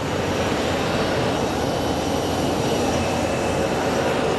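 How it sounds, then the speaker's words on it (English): Delta Airbus A321 arriving from Detroit on approach to land at Sky Harbor airport, a steady, loud broadband jet roar holding evenly throughout with no voices over it. "our next plane is a Delta A321 coming in from Detroit"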